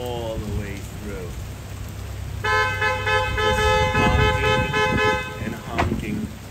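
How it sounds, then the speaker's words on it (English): Car horns blare in a long, sustained honk amid backed-up traffic on a narrow street where a vehicle is double parked, with rain spattering and a person talking around it. "Honking."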